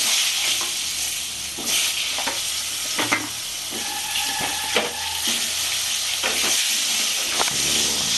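Potato pieces frying in hot oil for a Bengali-style crab curry, a steady loud sizzle with crackling bursts and occasional stirring scrapes, no voices.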